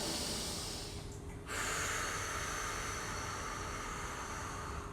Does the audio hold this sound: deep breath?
yes